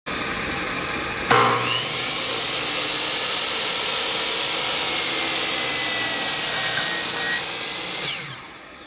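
A miter saw spins up to a loud, steady whine, then its blade plunges through wood with a rough sawing roar before winding down, close and alone with no speech.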